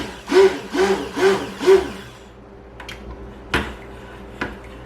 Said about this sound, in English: this mixer is fairly powerful, so I'm just taking a little short burst